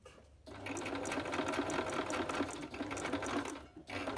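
A sewing machine stitches the front zipper of a pair of trousers, running steadily and fairly quietly for a few seconds before a short pause and a brief restart.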